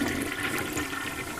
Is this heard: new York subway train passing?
no